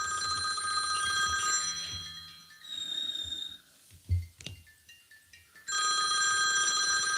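An incoming call rings on a phone: a bright electronic ring plays loudly for a couple of seconds, breaks off amid faint breathing and rustling, then resumes near the end.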